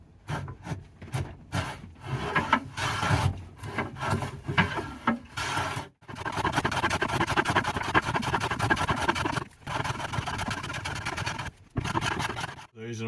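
A sharp hand blade cuts and shaves wood for an oil can guitar, giving continuous close rasping, scraping strokes with brief pauses as the cut tears through uneven grain.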